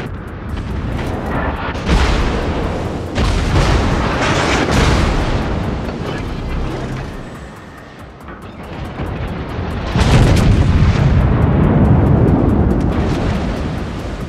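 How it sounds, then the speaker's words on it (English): Heavy artillery barrages strike a designated target in a naval video game, a continuous roar of loud booming blasts with a swell near the start and another surge around ten seconds, ship combat rumbling throughout. "All stations requesting fire on the designated target."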